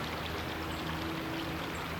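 Water rushes in a steady, broadband flowing wash where the Shenandoah and Potomac rivers meet at Harpers Ferry, West Virginia, with no voices and no pauses.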